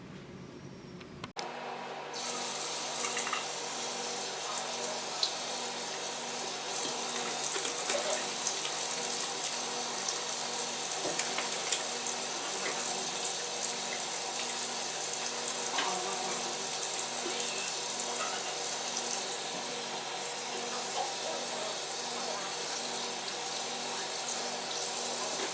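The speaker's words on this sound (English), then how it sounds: "you will begin to wash your hands with surgical scrub" Hands are scrubbed with surgical scrub under a running tap in a pharmacy buffer zone, a steady close rush of water that starts abruptly and continues evenly.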